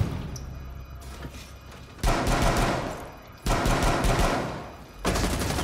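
Bursts of automatic gunfire in Rainbow Six Siege, rapid loud volleys starting abruptly and repeating in three separate bursts with short gaps, over a quieter stretch of game ambience at the start.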